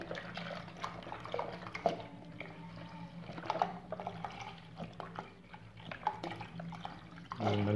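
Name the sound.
pouring a liter of milk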